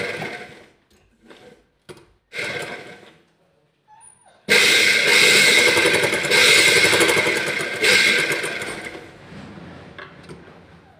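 Sewing machine stitching along the shoulder seam of a blouse, starting with a few short stop-start bursts, then running steadily for several seconds close by before slowing and easing off.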